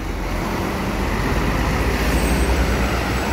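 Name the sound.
buses in road traffic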